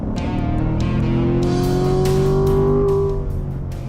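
Corvette V8 engine revving hard, a loud continuous roar with rising pitch that swells, holds and then eases slightly at the end, heard alone with no talk.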